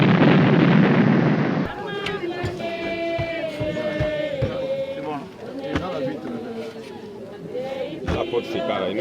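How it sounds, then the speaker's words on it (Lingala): Mourners at a funeral farewell for a teacher in Luanda give a brief, loud round of applause lasting under two seconds, followed by voices talking and singing. "Temos uma salva de palmas todos nós."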